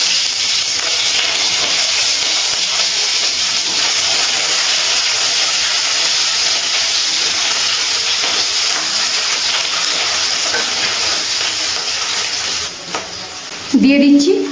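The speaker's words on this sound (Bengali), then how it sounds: "এই উচ্ছেগুলো তেলের মধ্যে দিয়ে দেবো ভাজার জন্য।" Round slices of bitter gourd fry in hot oil, producing a long, loud, unbroken hiss and sizzle that holds steady before a brief dip and a short clatter near the end.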